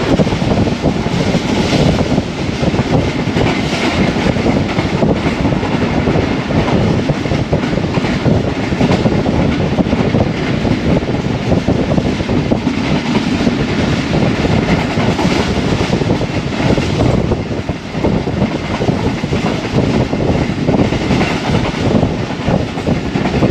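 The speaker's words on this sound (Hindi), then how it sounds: "इस वक्त काना काछा से गुज़र रही है ट्रेन और हमेशा की तरह यहाँ पे बड़ा हाई स्पीड जोन है, ट्रेन भी तेज़ रफ्तार है।" Pak Business Express passenger train running at high speed through the Kana Kacha high-speed zone, a loud continuous rushing rumble with rattling wheel noise, heard steadily from on board with no talk.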